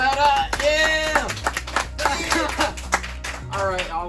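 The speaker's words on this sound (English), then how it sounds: "Clap it up, yeah!" A small group claps to welcome a tattoo-artist guest on a podcast, the applause sounding under loud, excited voices.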